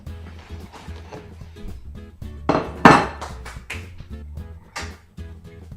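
Bacon and toast dropped onto a plate in a kitchen, a cluster of close clinks and knocks with one louder clatter in the middle, followed by a few lighter taps.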